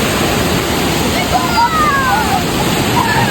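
A waterfall at Victoria Park in Truro, Nova Scotia, roars as a loud, dense, continuous rush of falling water that fills the whole scene from close range.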